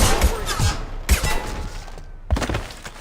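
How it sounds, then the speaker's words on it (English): Gunfire from a shootout: four loud, separate shots spaced about a second apart, each with a sharp crack and a ringing tail, heard up close. "Quick! Shoot them!"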